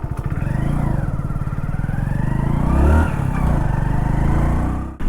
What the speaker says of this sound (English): Now let's go for a short ride on the Lord Splendor.